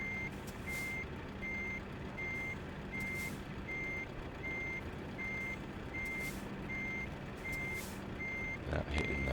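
A truck in Euro Truck Simulator 2 backs up slowly, its reversing alarm beeping at a steady, regular pace over a low engine rumble, with a short burst of noise at the end.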